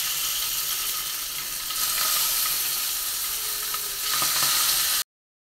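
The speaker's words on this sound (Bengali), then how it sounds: "এখন মাছটা ভেজে নেব" Spice-rubbed fish, coated in turmeric and chilli, sizzles steadily in hot oil in a pan, a loud, close, continuous crackling hiss that swells briefly a few times before cutting off to silence.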